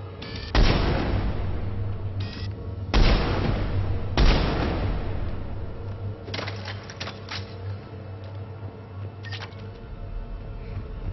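Weapon fire in a Mass Effect 3 multiplayer match, with several sharp, loud blasts spaced seconds apart followed by lighter clicks and rattles, and no talking.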